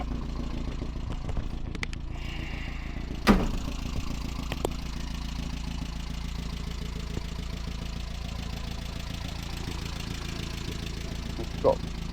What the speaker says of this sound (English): Yeah, the truck's running.